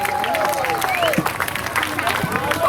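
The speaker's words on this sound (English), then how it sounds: "please give yourselves a round of applause for being here this afternoon" An outdoor awards-ceremony crowd at a 10K run and 5K walk claps and cheers, applause mixed with lively voices and scattered shouts throughout.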